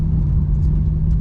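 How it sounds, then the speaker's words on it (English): A Porsche 911 Turbo of the 991.1 generation drives over a bumpy road. A steady, close low rumble and engine drone fill the cabin, with no talk. "even on a bumpy road that we are on right now, it's a comfortable daily-able car"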